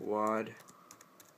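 Someone types a cheat code on a computer keyboard for Quake III Arena, giving a few soft, scattered key clicks right after a short spoken word.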